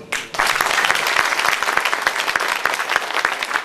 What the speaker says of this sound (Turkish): Şimdi alkış yerini de buldu.